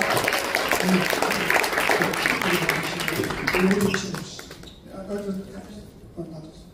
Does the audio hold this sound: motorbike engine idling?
no